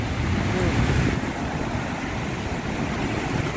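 Water splashing and crashing at Hazra waterfall, a continuous loud rushing roar with wind buffeting the microphone, heard up close and steady for the whole stretch.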